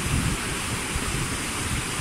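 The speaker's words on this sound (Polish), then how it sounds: "I tu jest cały jakby wodospad." Rushing water at a waterfall on a Norwegian river, pouring through a steep drop in rocky terrain; a steady, dense, close roar that fills the whole clip with no talk.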